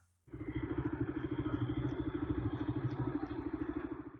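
A motorcycle ridden uphill near the VR46 area, its engine firing in a rapid, even, throbbing pulse, loud and close throughout after an abrupt start.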